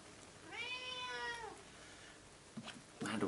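A pet cat gives a single drawn-out meow, fairly close and clear, followed by faint household knocks and rustling near the end.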